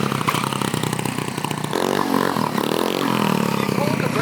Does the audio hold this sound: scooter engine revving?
yes